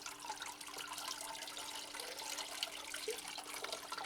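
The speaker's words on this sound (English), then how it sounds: "I might as well water these hanging ones that haven't been watered today" Water sprinkles onto hanging Aerangis orchids, a soft continuous hiss and trickle, steady and fairly faint, with a constant low hum underneath and no voices.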